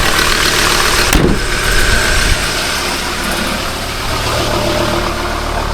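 A Ford Ranger Wildtrak 3.2 engine, just fixed after a turbo gasket failure, idles loudly and close up with a steady, dense rumble and a brief clatter near the start.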